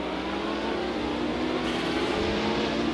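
GT500 race cars pulling away at the start at Tsukuba Circuit in Japan, a steady dense engine roar from a distance with no clear individual passes.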